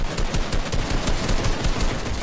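Rapid gunfire from a blue pistol in Fortnite Chapter 2, a dense, continuous burst of close shots filling the whole moment, with no talking.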